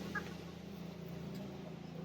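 Chickens feeding in a poultry shed cluck softly over a steady low hum, with one brief sharper call near the start.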